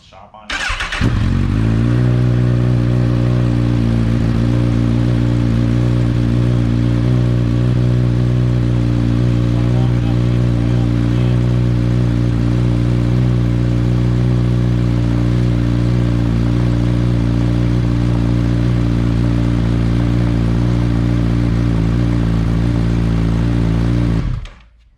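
A 2019 Honda CB1000R motorcycle engine starts up and then idles steadily in neutral in a workshop during an oil change, a loud, close, even rumble that runs unbroken for the full length before cutting off abruptly.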